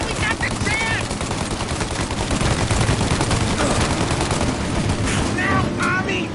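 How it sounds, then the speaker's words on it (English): Sustained gunfire from a shootout in the Mafia Definitive Edition video game, dense overlapping shots and bursts running loud and continuous throughout, with faint voices shouting underneath. "Shoot out your gun when there's a break in the fire!"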